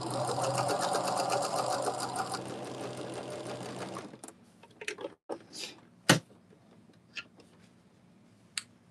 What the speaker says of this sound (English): I flip the fabric around and stitch a 1/4 inch on the other side.